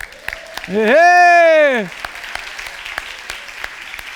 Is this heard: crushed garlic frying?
no